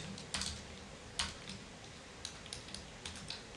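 Someone types on a computer keyboard while setting up Python on a computer. Soft, irregular keystrokes tap faintly and sparsely, with short pauses between small clusters of keys.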